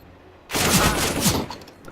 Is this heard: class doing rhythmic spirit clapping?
no